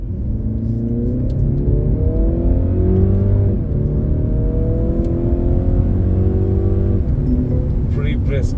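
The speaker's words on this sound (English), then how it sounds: "So let's just check out the acceleration of this car." A Mercedes-Benz C300 AMG accelerates hard, heard from inside the cabin: a loud, steady engine drone climbs in pitch through successive gear changes, with brief dips between shifts.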